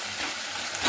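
Onion frying in a pan, a brief close, steady hiss of sizzling oil with no talking.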